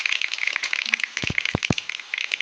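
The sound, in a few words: mustard seeds crackling in hot oil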